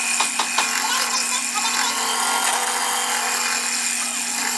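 Wood lathe spinning a wooden blank for a gumball machine, a loud steady motor hum and whir with brief scraping tool contacts near the start, close and continuous.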